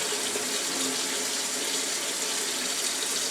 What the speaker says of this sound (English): first I'm going to go in with wetting my face a little bit first.